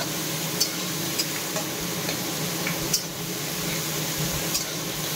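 Chopped tomatoes frying in hot oil in a pan, a steady close sizzle running throughout with occasional faint ticks of a utensil.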